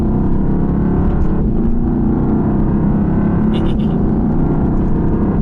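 The engine of a Mercedes-AMG GT R, held in gear in manual mode on a twisty road, gives a loud, continuous rumbling drone throughout, heard from inside the car with a voice talking over it.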